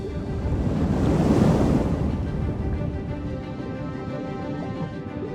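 Red Sea waves and surf roll in with wind buffeting the microphone, one big swell peaking near the start, then a steady, loud wash of water continuing alone.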